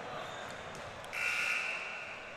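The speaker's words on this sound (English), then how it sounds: "Buzzer sounds, and we are about ready to get underway." A buzzer sounds in a gym before a high school basketball game between the CJHS Tigers and WYHS Storm, a sustained electronic tone lasting about a second over the steady crowd murmur.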